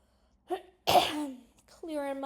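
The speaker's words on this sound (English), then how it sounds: "clearing my throat." A person clears their throat with a couple of short rough bursts, close and fairly quiet, followed by the start of speech.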